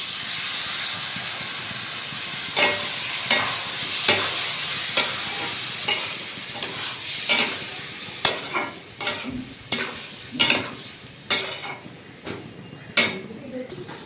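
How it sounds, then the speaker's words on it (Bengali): Chopped tomato goes into ginger paste frying in a pan for jackfruit curry, a loud steady hiss and sizzle with repeated sharp clacks of a spatula stirring against the pan, close up. "এখন আমি টমেটোটা দিয়ে দিচ্ছি।"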